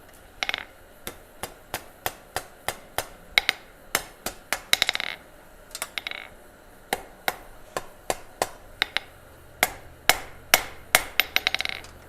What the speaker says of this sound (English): Let's go to the anvil, Jess.